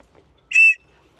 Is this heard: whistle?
yes